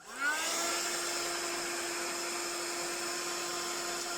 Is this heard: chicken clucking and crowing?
no